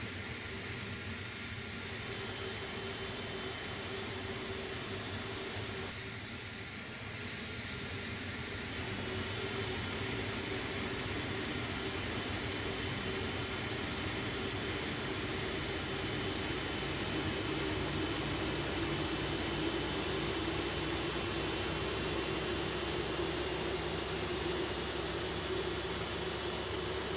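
Airliner engines with Rolls-Royce powerplants start up in Microsoft Flight Simulator, a steady broadband roar and whine that holds evenly for the whole stretch, moderately loud, with no talking over it.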